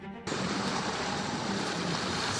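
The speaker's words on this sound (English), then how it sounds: "It's not raining anymore. It's fucking pouring!" A sudden rush of broadband noise starts and holds steady, heavy rain pouring down hard outdoors in Greece, loud and unbroken with no voices.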